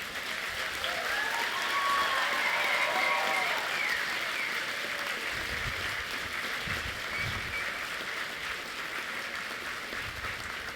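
Graduation ceremony audience giving a long round of applause for supporters, a broad steady roar of many clapping hands heard from some distance, with faint voices and cheers underneath.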